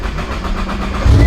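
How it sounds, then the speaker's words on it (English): Cold start of a Nissan GTR engine with a flex fuel kit: a steady low mechanical drone that surges into a louder, deeper exhaust rumble near the end, close and loud. "let's get a cold start in"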